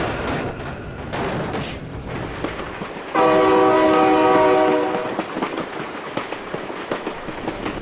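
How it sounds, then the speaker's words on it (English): A train horn blasts loudly for about two seconds midway through, with a rail train passing amid clattering, crackling noise before and after. "Oh my god, train!"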